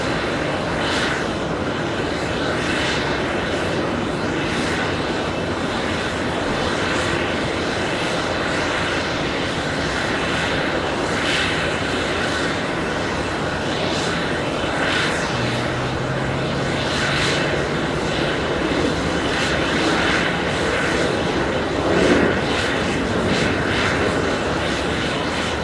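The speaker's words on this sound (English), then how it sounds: "The departure, that is JetBlue, 1719, heading to Atlanta, Georgia. On Airbus A320. Correction, Embraer E190" JetBlue Embraer E190 airliner departing JFK, a sustained moderate engine roar that builds and holds with a rising whine, heard from a distance outdoors with no talk.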